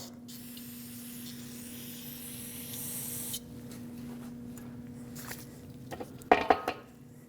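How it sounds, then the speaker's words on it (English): Brake parts cleaner aerosol spray hisses for about three seconds over a low hum, rinsing brake fluid off rear brakes of a 2009-2010 Dodge Ram 1500, then stops; a few metallic clinks and taps follow near the end. "Using a little bit of brake parts cleaner, rinse off the area to get the brake fluid off."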